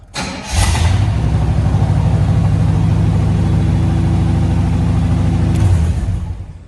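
A 1986 Chevrolet Monte Carlo SS with a small exhaust leak fires up and settles into a loud, steady, rumbling idle up close, holding for several seconds before tapering off.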